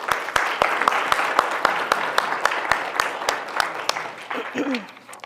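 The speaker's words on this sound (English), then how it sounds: "Please give them a big round of applause." Audience applause at an India Studies lecture, with dense, steady clapping from a crowd, continuing for several seconds before tapering off as a voice begins to speak.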